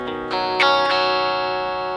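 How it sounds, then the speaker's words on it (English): A Stratocaster electric guitar through a Liverpool pedal with reverb from an Axe-FX, a few picked, strummed chord hits ringing out with bright, sustained harmonics and a gentle reverb tail, no voice. "this is the Liverpool pedal only and some reverb in the Axe-FX"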